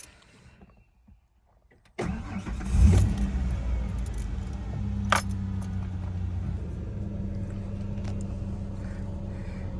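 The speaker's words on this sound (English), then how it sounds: "So once you do that, you should be able to go ahead and start the vehicle." A Ford Explorer 4.0L V6 cranks and starts after a near-silent moment, then settles into a steady close idle with a low engine hum and a brief rise in revs, no speech.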